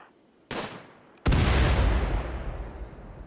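RimWorld gunfire: a sharp shot followed moments later by a louder blast whose heavy booming tail rings out and slowly fades, with no one talking.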